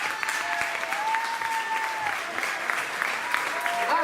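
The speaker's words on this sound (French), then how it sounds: "Je vous demande d'accueillir sous vos applaudissements spontanés" A dinner show audience applauds steadily as a guest is welcomed on stage. The clapping is dense and continuous, with faint voices beneath it.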